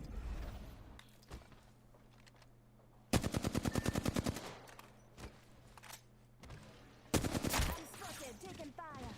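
Two long bursts of rapid machine-gun fire ring out in the video game Apex Legends, loud and close, between scattered single shots and quieter in-game movement noise.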